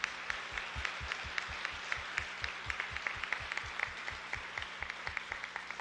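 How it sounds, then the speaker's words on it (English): A high school senior honors audience applauds scholarship students with steady, evenly paced claps that carry clearly and hold at an even level from start to finish. "Let's give all these students a round of applause."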